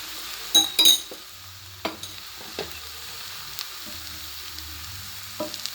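Nellore kara dosa frying in oil on a hot pan, a steady soft sizzle with a few sharp spatula scrapes and clinks near the start and scattered taps later, no voices.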